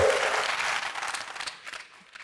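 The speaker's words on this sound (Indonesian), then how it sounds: "Berikan tepuk tangan bagi Tuhan, haleluya." Church congregation claps for God in a brief burst of applause, loud at first and thinning out into scattered claps as it fades.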